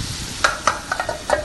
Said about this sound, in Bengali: চিংড়িটা 7 থেকে 8 মিনিট আমি চিংড়িটাকে ভালোভাবে কষিয়ে নিচ্ছি